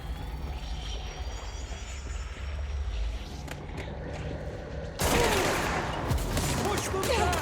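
Gunfire in the video game Control bursts in as a dense, loud volley of rapid shots midway, laid over a constant roar of game ambience and effects, with no voices.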